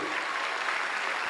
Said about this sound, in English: this image, I think it needs a big round of applause, everyone